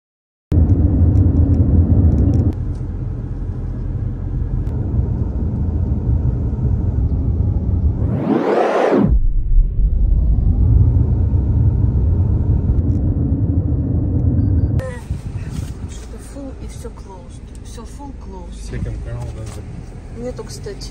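A car pulls away on a California road trip, its engine rumbling loud and steady under ongoing talk, with a sharp whooshing pass midway and a rougher, noisier road texture toward the end.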